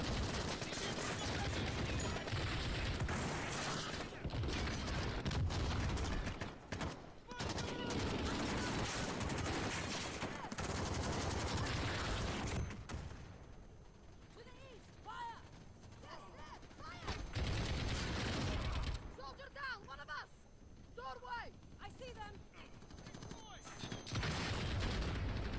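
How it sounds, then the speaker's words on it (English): Modern Warfare 2019 gunfire crackles in dense bursts and rapid automatic volleys, loud through the first half, then sparser shots later. Voices and game sounds come in between. "Who's shooting right here?"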